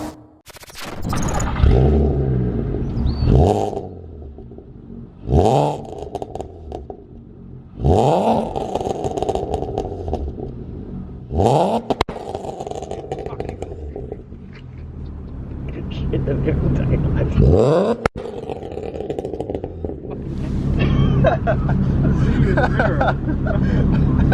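A heavily modified VW Golf R32 accelerates hard from inside, its engine revving up through repeated rising sweeps with sharp breaks at each gear change, loud and close, while voices murmur in the cabin.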